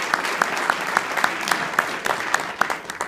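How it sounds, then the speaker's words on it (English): An audience at an Eagle Scout ceremony gives a round of applause: a steady wash of many hands clapping at moderate volume, with a few louder nearby claps popping out in a loose rhythm. "Could we give them a round of applause?"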